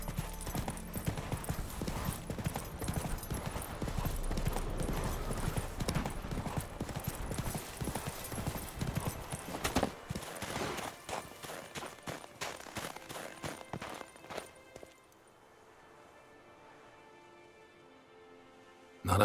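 Hooves of Roach, Geralt's horse in The Witcher 3, clip-clop in a steady walking rhythm, close and clear, for about fifteen seconds before fading to a quiet ambient hush.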